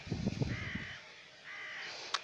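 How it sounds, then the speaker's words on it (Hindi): Crow cawing outdoors: two drawn-out, nasal caws about a second apart, clear and fairly close, with a few low thumps before them and no talk. "कव्वे की आवाज़"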